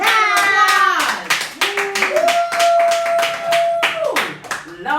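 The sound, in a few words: audience applause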